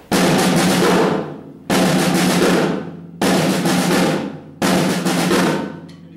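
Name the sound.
drum six-stroke roll rudiment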